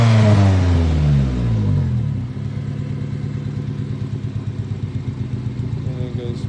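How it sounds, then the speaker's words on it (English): A Honda Civic CX engine revs briefly, then drops and settles into a low, uneven idle with a steady pulsing, chugging rhythm, loud and close. "I also need to figure out this idle, because right now it's idled real low"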